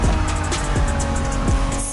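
A 1990s Honda NSX sports car driving in The Crew Motorfest on PlayStation 5, a loud close engine drone with quick rising and falling pitch sweeps as it revs through gears.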